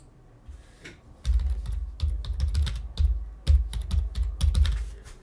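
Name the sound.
computer mouse clicking and keyboard typing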